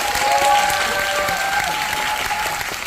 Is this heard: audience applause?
yes